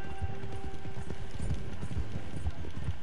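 Horse hooves clip-clop at a steady gallop in a Wild West video game, rhythmic thuds close and continuous over game music with a faint background tone.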